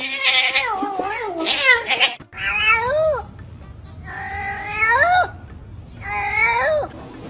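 A cat inside a bag meows repeatedly, with loud, drawn-out, wavering cries coming in several bursts close to the mic.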